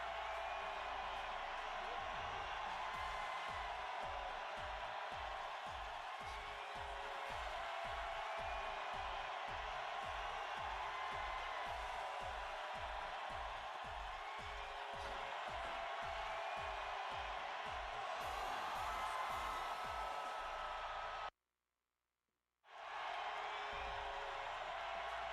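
Arena crowd noise in the Fire Pro Wrestling World video game, a steady dense roar of cheering and whoops with rhythmic thumping underneath, sustained for a long stretch and briefly cutting out near the end.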